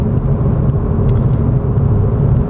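A Suzuki Swift Sport with a 1.4 engine pulls steadily through its gears on the road, producing a continuous, fairly loud engine rumble and drone with no voices.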